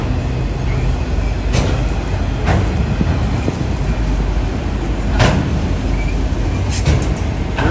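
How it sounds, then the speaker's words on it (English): A freight train with articulated auto rack cars rolls past close by in a steady, loud rumble, with sharp clanks and knocks of couplers and wheels breaking through at intervals. "Hey, I hear another train."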